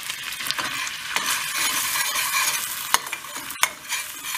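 Red pepper flakes sizzle in melted butter in a pan, a bright hissing crackle with stirring scrapes and a couple of sharp clinks, heard up close with no voices.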